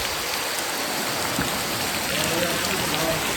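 Steady rain hisses across the whole clip, a dense continuous wash with a few faint scattered drips standing out.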